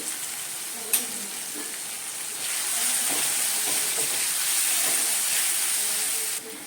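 Vegetables with chopped ginger and turmeric frying in a pan for karabath, a continuous close sizzle and hiss with a sharp clank near the start and louder frying in the second half.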